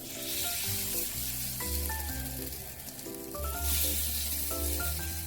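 Soji appam batter fries slowly on a low flame in the compartments of an appam pan, turning crisp; a steady, close crackling sizzle runs throughout with music playing alongside.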